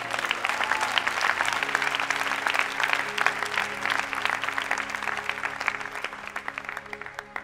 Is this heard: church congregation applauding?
yes